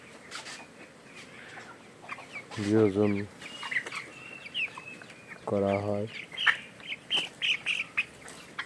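Chickens in a poultry house cluck and call in two loud, rhythmic bursts against a quieter background of scattered bird chatter, while a person talks softly in the background.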